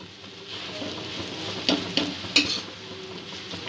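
Egg chowmein is stirred with chili sauce in a pan over the flame, giving a soft, continuous sizzle and scraping. A few sharp clinks of a utensil against the pan stand out near the middle, and no one talks.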